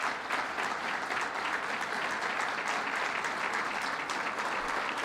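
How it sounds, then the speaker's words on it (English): A large crowd claps steadily and loudly for several seconds, a dense, continuous patter of applause with no pause. "Let's stand up and give them a round of applause."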